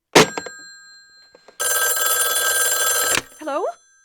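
An old-style telephone bell rings loudly in one sustained burst of about a second and a half, after a few faint clicks and handling noises, with a voice speaking briefly right after it stops.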